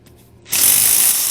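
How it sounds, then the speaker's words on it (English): A power drill boring holes for lag bolts while a Doc Lok bracket is installed, cutting in abruptly after a quiet moment and holding a loud, steady, close whine to the end. "Drill holes for lags."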